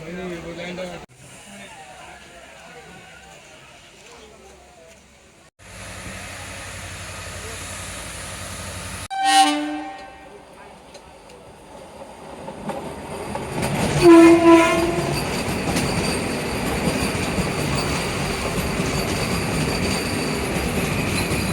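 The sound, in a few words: Howrah Vande Bharat express train overtaking, heard from inside a train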